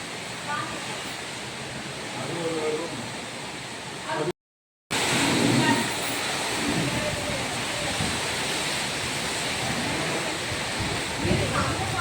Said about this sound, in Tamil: எந்த அளவுக்கு வந்து சார காற்று அடின்னு சொல்லிட்டு நீங்களே பாருங்கள்